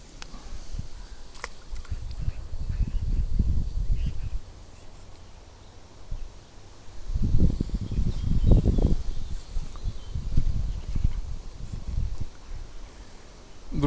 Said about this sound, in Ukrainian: дуже сильний вітер піднявся, задуває